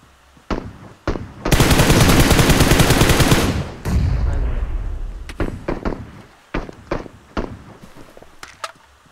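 A long, sustained burst of automatic gunfire from PUBG Mobile lasts a couple of seconds, surrounded by scattered single shots and sharp cracks, loud and close.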